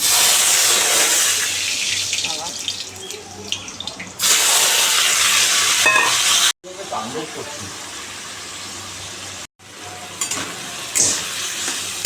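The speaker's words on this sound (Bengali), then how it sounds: "একটু ভাজা ভাজা করবো এটা" Carrot, beans and capsicum being stir-fried in refined oil, with a loud, steady sizzle and scraping stirs broken by two abrupt cuts, close up.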